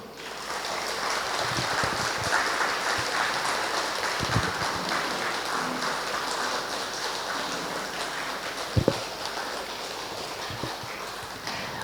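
Sustained clapping from a large audience at a spiritual gathering, a dense, even roar of hands that holds steady throughout, with a couple of sharper knocks near the end.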